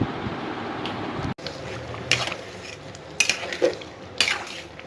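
Meat with chana dal and fat cooking in a pot on Eid, with a spoon stirring and scraping against metal in several distinct clanks and scrapes over a low sizzle, close by, with faint background voices.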